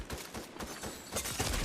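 Video game gunfire crackles in rapid, repeated bursts throughout, fairly faint and mixed into a busy background.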